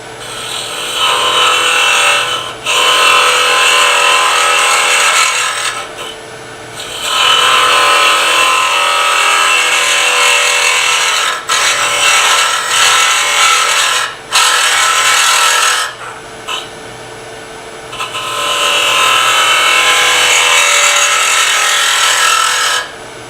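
Wood being turned on a miniature lathe, the tool cutting back up underneath a shoulder: a loud, steady scraping hiss in several long passes separated by brief pauses, with no talk.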